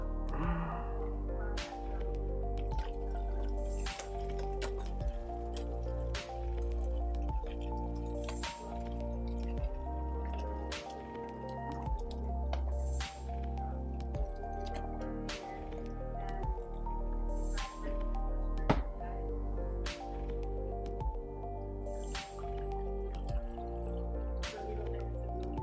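Homemade chicken stock strained through a sieve, with steady liquid dripping and trickling, soft squishing of solids and occasional light clinks of pot and utensils, close and continuous without speech.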